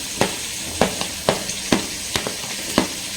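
Onion and green capsicum frying in a kadai for a butter paneer gravy: a steady oily sizzle broken by sharp stirring clacks about every half second, close and fairly loud, with no talking.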